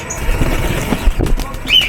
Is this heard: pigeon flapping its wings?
yes